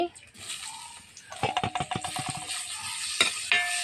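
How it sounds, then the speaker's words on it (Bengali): Chopped onion drops into hot oil, setting off a loud burst of crackling sizzle with rapid pops and stirring clatter, then settling into a steady fry. "এই তেলের মধ্যে দিয়ে দিচ্ছি পেঁয়াজ কুচি"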